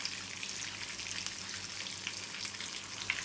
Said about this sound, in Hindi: इसी तरीके से मैं सारे कबाब फ्राई करती हूँ